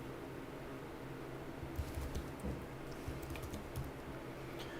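Someone types on a computer keyboard at a PC workstation, a faint patter of quick key clicks starting partway through. It sits beneath a steady hiss of fan and background noise.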